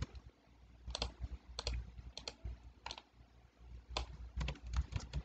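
Keystrokes on a computer keyboard during an IGCSE ICT practical exam, rattling along in uneven bursts of quick clicks with short pauses, close and moderately loud, with no talking.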